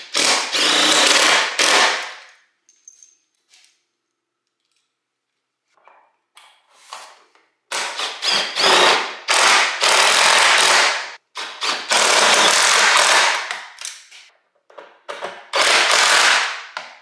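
A power tool drives self-tapping screws into a battery hold-down during a lithium conversion on a Club Car golf cart, giving several loud, close whirring runs of a few seconds each, separated by quiet gaps.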